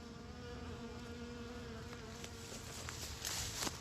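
Bees buzzing among prairie wildflowers in conservation strips, a faint steady hum of insects drifting close and far with light outdoor background noise.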